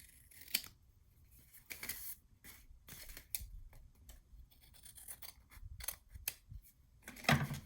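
Scissors trimming paper for a small handmade mini album, with a series of crisp snipping cuts at close range, irregular in rhythm and with short pauses between them, and no talking.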